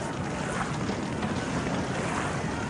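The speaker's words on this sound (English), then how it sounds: "Now we get a sinking sound." Ship sinking effect in the naval war game War in the Pacific: AE, a continuous rushing, roaring wash of water-like noise, steady and fairly loud throughout with no talk.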